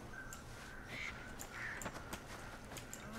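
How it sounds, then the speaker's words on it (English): Crows caw a few times in the Far Cry Primal video game, short harsh calls rising over a quiet, hissy wilderness ambience. "No, that's a bird."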